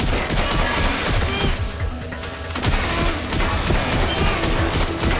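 Gunfire in the action game Watch Dogs: dense, continuous crackling volleys blended with loud game music and effects, barely pausing around the middle before resuming.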